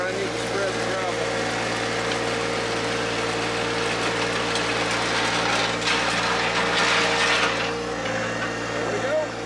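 A John Deere 1025R compact tractor spreads gravel with a box blade while grading a driveway, its engine droning steadily and close, with rattling and gritty scraping over the top.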